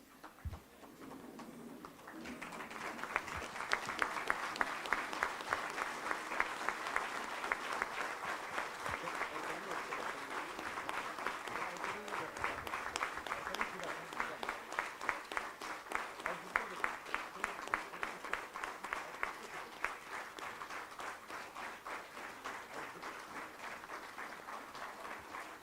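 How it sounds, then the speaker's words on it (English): At an award ceremony, the audience gives a standing ovation, breaking into sustained applause after a brief moment of talk. The clapping stays steady and fairly distant, with a hall-like, crowd-filled texture through to the end. "Now it is time for the dignitaries of the dais to honor the awardees by giving them a standing ovation, please."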